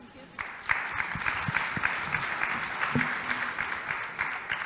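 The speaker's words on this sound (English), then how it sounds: "Another round of applause" Moderate applause from a conference audience at the Africa Tourism Leadership Forum follows a panel discussion, rising after a quiet start and holding steady with a few faint voices mixed in.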